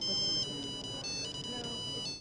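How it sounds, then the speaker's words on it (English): A downloaded song plays as a cell phone ringtone, a bright electronic melody of repeated tones over a steady background murmur at an early-2000s European technology exhibition in Prague. "download your favorite song as a cell phone ring."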